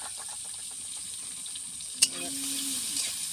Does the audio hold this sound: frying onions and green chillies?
yes